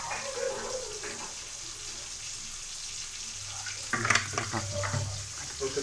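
Water going into frying masala for potol malai curry, a soft sizzle and splash that picks up toward the end, fairly quiet, with faint background sounds and no clear speech.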